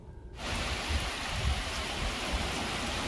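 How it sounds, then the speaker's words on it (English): Heavy rain suddenly starts, then keeps pouring in a dense, steady hiss, close and loud, with no voices. "That's a lot of rain."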